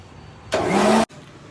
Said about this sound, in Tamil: கொஞ்சம் லைட்டாக இப்போ திருப்பி போட்டு நம்ம என்ன பண்ணலாம், அரைச்சிக்கலாம்